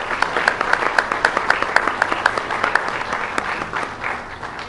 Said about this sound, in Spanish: les brindemos un fuerte aplauso por este trabajo que realizan